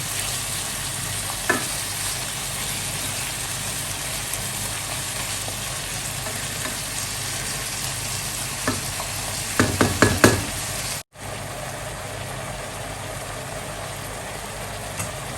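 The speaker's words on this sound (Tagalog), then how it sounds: "Antayin lang natin na mag-brown lahat yung beef." Beef browns in a hot pan, giving a loud, continuous sizzle and crackle throughout, with a few sharp spatters near the end and a brief dropout before the frying resumes; no one speaks.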